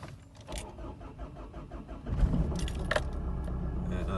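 A car engine starts from a push button after a jangle of keys, cranking briefly and then catching into a low idle, close by.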